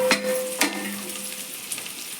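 Onion and carrot frying in a pan for vegetable biryani, a steady close sizzle with a couple of sharp stirring knocks against the pan, no talking.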